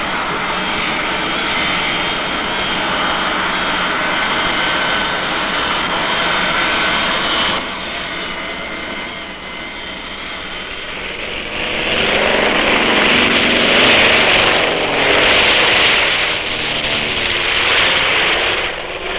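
An airplane engine drones loud and steady as the aircraft taxis at Orange County Airport in 1970, its roar dipping briefly midway before swelling again with a harsher rushing tone, no talk.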